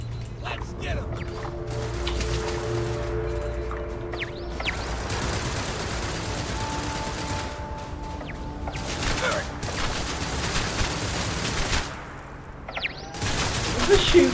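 Bursts of gunfire in the space game Starfield, loud, dense and crackling, recurring in clusters over steady game ambience, with a voice talking throughout.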